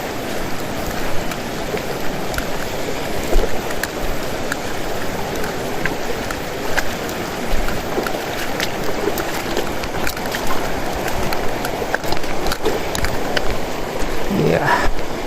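Steady rain falls over a river during a summer thunderstorm, a dense even hiss of drops close around, continuous and fairly loud throughout with no clear voices.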